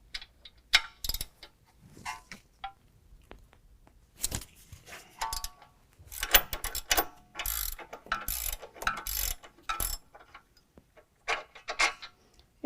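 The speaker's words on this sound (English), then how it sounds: "remove the sway bar end link from the axle mount using 18mm" A hand ratchet with an 18mm socket clicks in quick, uneven bursts while loosening the sway bar end link from the axle mount on a 2018 two-door Jeep JL, close and crisp with short pauses between strokes.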